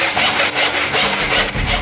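A hand saw cuts off a piece of wood in quick, loud, close rhythmic strokes, about five rasping passes in under two seconds.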